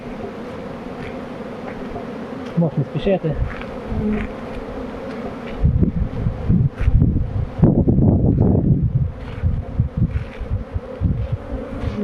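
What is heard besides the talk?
honeybees flying around hives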